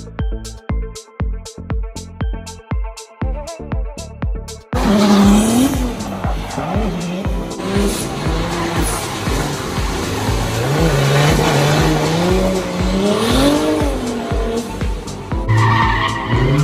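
Cars drifting on an open track, tires squealing in long sustained screeches over revving engines, loud and close, preceded by a rhythmic series of sharp repeated bursts.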